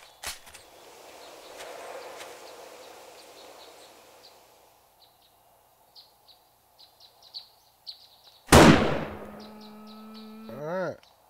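Gunshot in the video game 7 Days To Die: quiet outdoor ambience with soft chirps and a sharp early click, then one loud, abrupt blast near the end followed by ringing tones.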